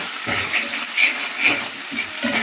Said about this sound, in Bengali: ভালো করে নাড়াচাড়া করে ভেজে নিতে হবে